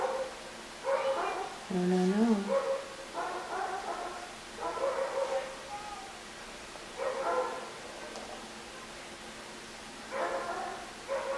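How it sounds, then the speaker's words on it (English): Several short bursts of dog barking and whimpering yips come in separate clusters, with a person speaking briefly in between. "barking dogs"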